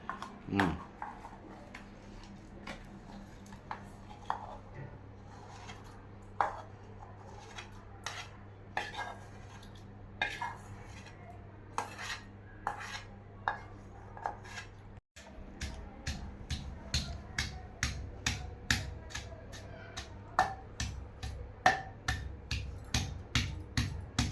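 Coconut chutney pounded in a stone mortar with a pestle, sounding as a steady run of sharp, hard knocks repeating all the way through, with a brief break partway, under soft room noise.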